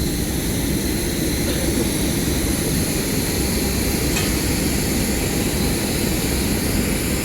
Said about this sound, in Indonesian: Kita sekarang udah di dalam pesawat.